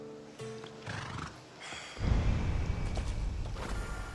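Horse in Assassin's Creed Odyssey gives a loud, close whinny, followed by heavier snorting and rustling movement, with no talk over it.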